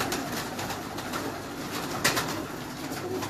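Pigeon cooing at a rooftop loft among crossbred birds, a steady low murmur of calls running through the whole stretch over a busy, noisy outdoor background with one brief sharper sound partway through.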